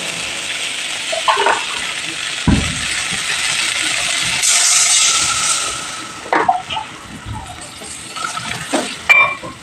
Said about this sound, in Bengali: মশলা কষানো কমপ্লিট এবার জল দিয়ে দেবো পরিমাণ মতো